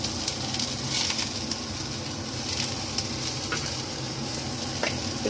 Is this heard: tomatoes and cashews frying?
yes